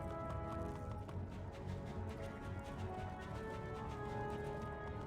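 A horse mount's hooves clip-clop steadily in the Wizard101 video game, a faint continuous rhythmic trot mixed into background game music.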